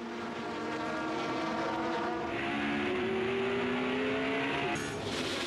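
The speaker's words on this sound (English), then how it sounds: "The pair of Alfas then sliced past Garcia's BMW to return to the head of the pack." Alfa Romeo touring race cars pass on a circuit during a touring car race, their engines a sustained loud roar with a rising whine as they sweep past nearby, no voices over it.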